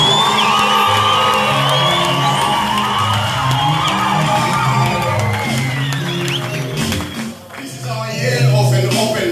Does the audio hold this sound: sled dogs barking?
no